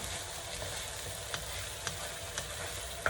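Rice frying in a pan on a stovetop, a steady close sizzle with a few soft clicks of stirring, heard alone without speech.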